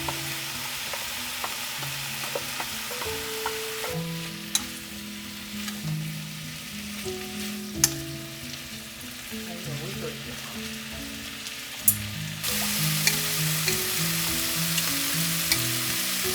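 Meat and cut vegetables for nikujaga fry in a pan with a steady close sizzle, occasional clacks of stirring utensils, and the frying growing louder toward the end.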